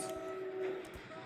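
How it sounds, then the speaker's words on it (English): A train rumbling along in a video game where vehicles are destroyed, its steady whistle-like tone held over continuous rolling noise, close and moderately loud for about a second. "I hope this train don't hit the school bus."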